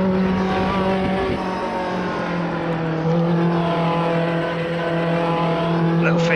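Mazda MX-5 in Automobilista 2 cruising with a steady, droning engine tone at fairly constant revs, loud and continuous, with only slight shifts in pitch.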